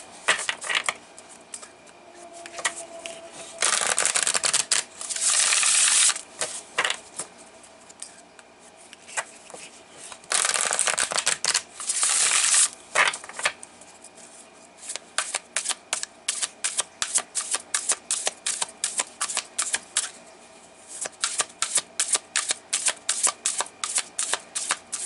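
Tarot cards being shuffled by hand, with bursts of riffling alternating with quick, rhythmic card-on-card slaps and flicks, close and crisp, with no talking.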